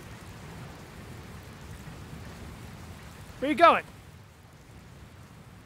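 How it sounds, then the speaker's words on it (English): Steady rain with low storm rumble fills a scene in the video game Dragon Quest Builders 2, a constant wash of noise under one short spoken line. "Looks like there's another storm rolling in."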